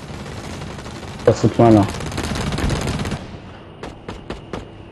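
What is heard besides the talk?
sniper gunfire in a video game match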